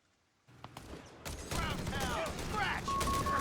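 Machine gun fire and battle noise in the World War II strategy game Company of Heroes 3, a dense, continuous clatter of rapid shots and explosions building to steady loud gunfire, with commentary voices mixed underneath.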